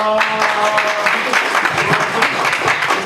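Party members applaud a women's-list deputy leader candidate at a Labor Party election rally, with dense clapping and some cheering. Voices break through the crowd noise and a tonal hum sits underneath.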